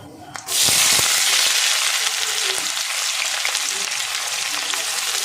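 Chopped onion drops into hot oil with whole spices such as cinnamon and cumin, setting off a sudden loud sizzle that then settles into steady, close frying.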